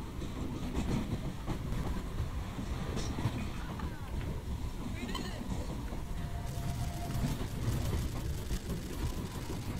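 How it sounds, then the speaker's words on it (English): A train in the video game Garry's Mod rumbles steadily throughout, a dense low rolling rush with faint clattering and occasional higher squeals, continuous and fairly near. "Come on, train!"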